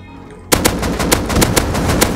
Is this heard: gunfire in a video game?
yes